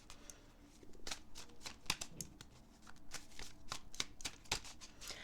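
Tarot cards shuffled by hand for a reading, quiet close riffling and flicking bursts in a quick uneven rhythm, soft and with no talk.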